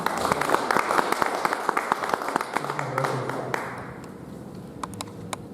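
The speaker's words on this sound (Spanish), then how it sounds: "Por favor, brindémosle un gran aplauso." Conference audience applauding a speaker at an electrical congress, dense clapping filling the room for about four seconds before thinning into a few scattered claps near the end.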